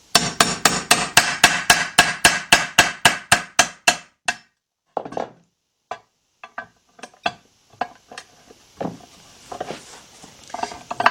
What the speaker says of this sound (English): Put it over it with your hammer.